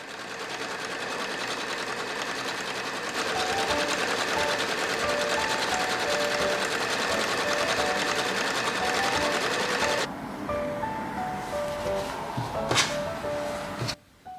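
Sewing machine stitching the side seams of a patchwork fabric piece, a steady continuous whir for about ten seconds, then it slows and stops, with a few faint handling clicks afterward.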